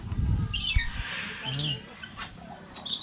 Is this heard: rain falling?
no